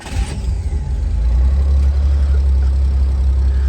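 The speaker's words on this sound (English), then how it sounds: "Let me get in the car and start it up for you." A 1965 Chevrolet Corvair Monza convertible cranks briefly, catches and settles into a steady, loud, low engine rumble close by, with no talk over it.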